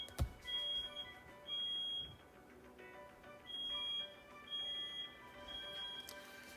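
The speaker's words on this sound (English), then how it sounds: "Setting off the fire alarm." A smoke detector fire alarm sounds from another room, its high piercing beeps repeating in short regular pulses, faint and distant over quiet background hum.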